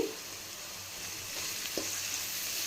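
Onion and red chilli powder being stirred in a frying pan for an egg and drumstick-leaf fry, a steady hissing sizzle with a couple of soft spatula scrapes, close up.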